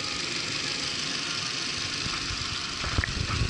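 A Volkswagen MK4 1.8T four-cylinder engine idles steadily nearby with a continuous mechanical hum and faint ticking, a few louder knocks and clatters rising near the end.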